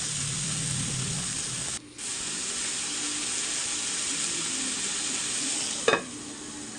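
Carrots dropped into a hot pan for pancit canton sizzle with a loud, steady hiss. The hiss dips briefly and then resumes, and a sharp clatter and stir comes near the end.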